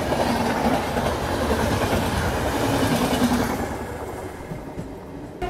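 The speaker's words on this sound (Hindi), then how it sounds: "एनजेपी हावड़ा वंदे भारत जो है ना वो ओवरटेक कर गई हमें" NJP-Howrah Vande Bharat express overtaking on the adjacent track in heavy rain in West Bengal, a loud rushing roar with rhythmic wheel clatter that fades away toward the end.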